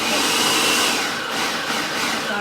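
Food processor pulsing chopped clams for holiday stuffed clams, a steady loud motor whir with broad noisy hiss and a faint tonal whine, running continuously close up.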